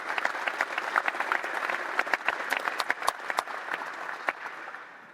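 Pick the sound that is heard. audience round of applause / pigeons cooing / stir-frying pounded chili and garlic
audience round of applause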